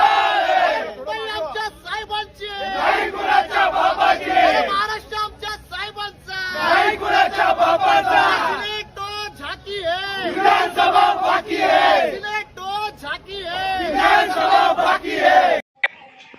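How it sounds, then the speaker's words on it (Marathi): Student activists celebrate a university senate election win with a loud crowd, chanting slogans and cheering in rhythmic bursts that carry on almost without a break. "युवासेनेच्या कार्यकर्त्यांनी आनंद उत्सव साजरा करत विजयाचा जल्लोष केला"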